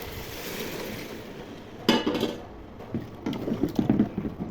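Water is poured into a beef curry (bhuna) frying in a pot, with a gentle sizzle before a sudden burst of hissing and splashing. Bubbling and stirring follow, close and moderately loud, with no voices.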